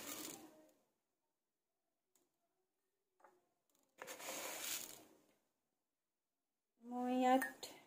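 A spoon scoops sugar from a container and tips it into a cup of coffee. Short soft scraping and clinking bursts are separated by quiet gaps, and a brief voice is heard.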